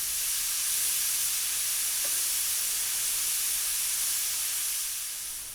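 A pressure cooker holding chicken mandi lets out steam in a steady, fairly faint hiss that holds evenly before tapering slightly at the end.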